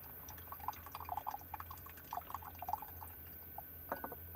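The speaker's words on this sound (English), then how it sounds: "My coffee is pouring. You hear that?" Coffee trickles and drips steadily into a cup, a soft, close patter of small drops with a low hum underneath.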